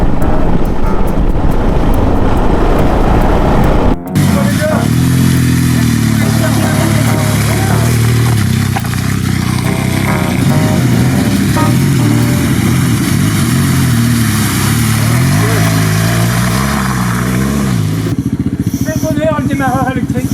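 An off-road motorcycle being ridden in mud kicks over on its electric starter and catches. The engine then runs loud and close, idling and revving unevenly under wind buffeting, with voices heard briefly.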